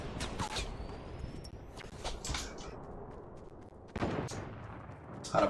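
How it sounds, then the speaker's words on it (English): Gunfire in the video game Fortnite during a 50v50 match: scattered sharp shots and bursts crackle over a dense, busy game soundscape, fairly loud, with a heavier cluster of shots near the end. "Why are they shooting me?"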